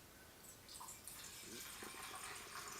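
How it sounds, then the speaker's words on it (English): Hot water pours from a Kelly Kettle into the large Kelly Kettle mug outdoors, a steady splashing trickle that is fairly quiet under faint background noise. "we're going to go ahead and pour it out here into this Kelly Kettle mug."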